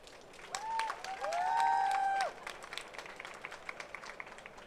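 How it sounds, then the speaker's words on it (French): A conference audience at a tech event claps scattered and fairly far off, while a rising and falling tonal whoop or cheer-like sound swells over it early on before the clapping thins out. "avec un tonnerre d'applaudissements"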